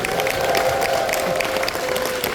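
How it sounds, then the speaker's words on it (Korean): An audience at a business seminar gives a steady round of applause, dense, even clapping throughout with no break. "여러분 박수 한번 주십시오"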